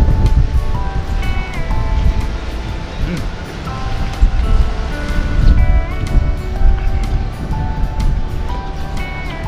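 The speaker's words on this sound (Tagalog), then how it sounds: "Dito po ay malakas pa rin ang hangin." Strong wind roars and buffets steadily, with rustling gusts and a low rumble, loud and continuous.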